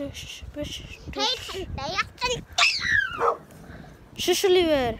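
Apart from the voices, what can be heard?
big dogs barking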